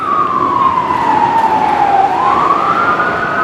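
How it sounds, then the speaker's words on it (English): A sheriff's car siren wails steadily in a long, slowly falling then rising tone, moderately loud over a constant background hum. "That's a sheriff's siren."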